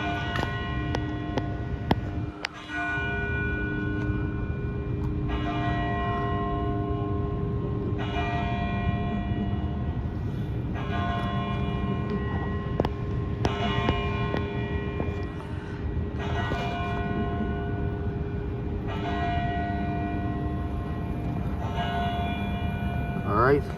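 Bells of an Episcopal church ringing in a steady repeating peal, each stroke leaving long sustained tones, heard from a distance outdoors with low background rumble.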